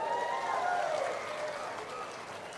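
Audience applause at an outdoor political rally for Andhra Pradesh Chief Minister Chandrababu, a sustained wash of clapping with mixed crowd voices rising briefly, then settling at a steady level for a few seconds.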